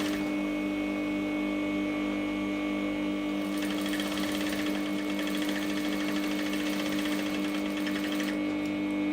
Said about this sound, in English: So now I'm stitching. I'm just stitching to turn the neckline.